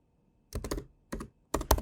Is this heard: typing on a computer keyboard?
yes